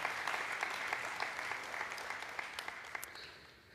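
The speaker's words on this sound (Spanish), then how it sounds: "Le da un aplauso al Señor." A church congregation gives sustained applause to the Lord during a sermon, a dense steady clapping that fades slightly toward the end.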